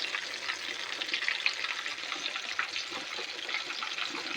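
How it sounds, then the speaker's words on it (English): Grits cook in a pot on the stove, giving a steady bubbling, sizzling hiss with small pops throughout. The sound is close and continuous, and no one talks. "those grits are bubbling good"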